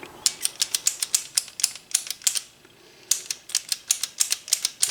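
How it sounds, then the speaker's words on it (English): Williams pinball score reel cam mechanism clicking in rapid, crisp bursts of mechanical ticks, two quick runs split by a short pause, close and fairly quiet with no talk. "This is what you're hearing, the clicking."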